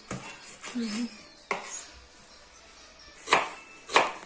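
A stove-cooked kebab cut in two on a plate, with a few sharp scraping knife-on-dish clinks spaced over a few seconds, quiet and close, amid soft kitchen background noise.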